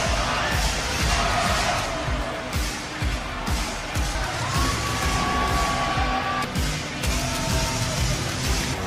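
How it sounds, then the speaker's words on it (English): Loud wrestling crowd cheering and roaring steadily in a Florida arena during a WWE SmackDown event, a dense wash of voices with sharp bursts, under occasional commentary. "Listen to this crowd here in Florida."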